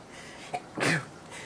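A single sneeze, short and sharp after a brief intake, heard at moderate distance against a quiet room.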